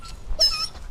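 A pet dog at a home in Thailand gives a short squeaky whine or yelp, close and moderately loud, with no talking.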